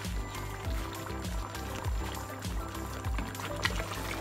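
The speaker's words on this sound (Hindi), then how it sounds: "अब इसको इसमें डालेंगे ऑयल" Cooking oil pours into a pot of cooked meat and potatoes, a soft steady liquid stream over a faint rhythmic thumping in the background.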